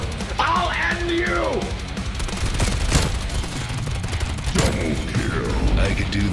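Video game gunfire in a Cold War standoff match, rapid bursts and sharp shots crackling over a steady din, with several players shouting and talking throughout.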